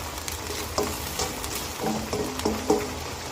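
Pork belly sizzles and crackles in a hot pan over high heat, with steady frying hiss and several scraping stirs of a utensil against the pan, close and fairly loud.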